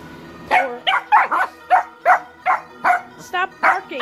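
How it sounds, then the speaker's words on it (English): A dog barks repeatedly up close, about ten loud sharp barks in a fairly steady rhythm. "Stop barking, Nawnii."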